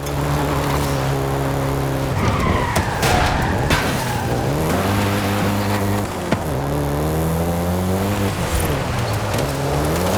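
A Volkswagen Golf GTI driven hard in Forza Horizon 5, its engine droning and shifting pitch while tires squeal and skid through corners, loud and close with no talking.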